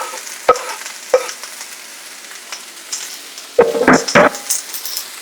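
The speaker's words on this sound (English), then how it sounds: "Let's go ahead and add our peppers and onions and get them going." Peppers and onions hit a hot pan of olive oil, giving a soft steady sizzle with sharp clattering knocks of utensils and pan noise, the loudest burst coming late.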